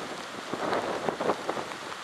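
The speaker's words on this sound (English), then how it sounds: "Rain and the winds are pretty bad." Hurricane rain and wind battering a home with solar panels on the roof, a dense hiss of rain with wind surges and a few sharper spatters, fairly loud and steady with no voices.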